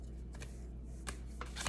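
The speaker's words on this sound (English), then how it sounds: "I can't even shuffle the cards. They just fall out on their own." A deck of cards is shuffled close by, with quiet papery riffles and soft flutters coming in a few short bursts over faint background hiss.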